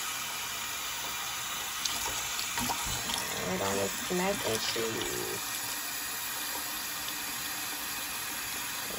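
Hot tap water runs steadily into a kitchen sink while dishes are washed, a constant hiss and splash throughout with a person talking over it mid-clip.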